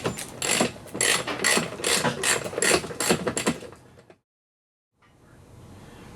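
A ratchet with an Allen socket clicks in quick repeated bursts while turning bumper bolts on an Audi A4 B5 1.8T, close and clear for about four seconds, then silence and faint room noise.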